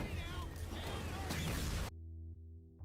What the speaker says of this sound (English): This is the Halo 4 Lich explosion.